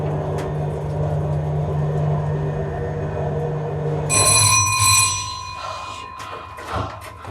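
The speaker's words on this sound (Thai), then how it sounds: "เอากระดิ่งกระดิ่งนี้ออกได้ไหม" A bell rings in an old building under renovation, a bright metallic ringing that starts midway over a low steady hum and fades out, followed by a few scattered knocks.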